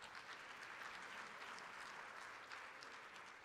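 Steady, dense applause from a large audience at the opening ceremony of an investment forum, continuous and even throughout, with no voices standing out.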